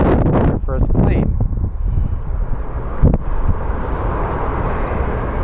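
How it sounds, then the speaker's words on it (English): A FedEx MD-11 cargo jet flies past at Sky Harbor International Airport in Phoenix, its engine roar loud and steady under wind buffeting, with a person talking briefly at the start. "We're going to be getting the 11, our first plane."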